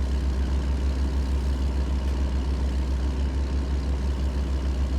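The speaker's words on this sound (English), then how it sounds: "That engine sounds good." In a trucking video game on a Route 66 run, a truck engine idles with a deep, steady low rumble, constant and close, alone without talk.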